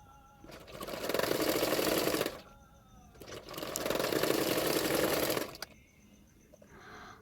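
Sewing machine stitching a double katori blouse, running in two loud sustained bursts of steady whirring with a short pause between and a quieter tail at the end.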